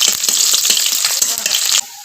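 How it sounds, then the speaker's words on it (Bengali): Chopped onions fry in hot oil with cumin seeds and bay leaf, giving a loud, close, crackling sizzle with quick stirring scrapes throughout; the sizzle drops away sharply near the end. "পেঁয়াজটা আমি লাল করে ভেজে নেব"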